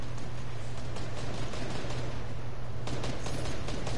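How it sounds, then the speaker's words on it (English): Gunfire in a shooting video game, rapid bursts of shots crackling over a steady low hum from the game audio, moderately loud and continuous for about four seconds, with no talking. "Gunshots."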